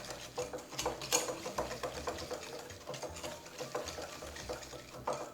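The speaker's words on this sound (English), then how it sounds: "kind of just mix until things are even and you feel that the sugar has absorbed the olive oil already" Sugar and olive oil being mixed in a bowl for Fanouropita cake batter: a steady, rhythmic scraping and whirring of the utensil that runs continuously and close up.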